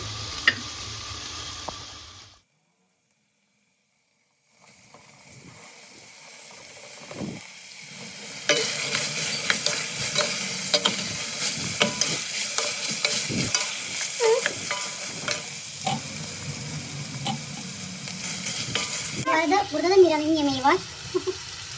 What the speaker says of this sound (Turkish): Şimdi bunun üzerine havuçlarını ve patatesini atacağım.